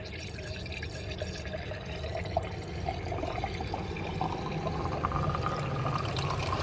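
Coolant pours steadily into a Jaguar car in a continuous, close-up stream for several seconds, gurgling faintly as it fills.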